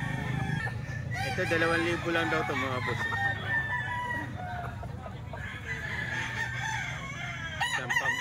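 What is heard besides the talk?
roosters crowing at a chicken market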